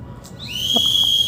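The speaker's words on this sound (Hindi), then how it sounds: "और गार्ड जी सीटी लगा रहे हैं" A colony security guard blows a whistle outdoors in the evening, a single sustained shrill tone rising in and holding steady for about a second over faint background noise.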